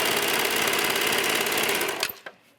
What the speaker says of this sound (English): Let's go to the serger.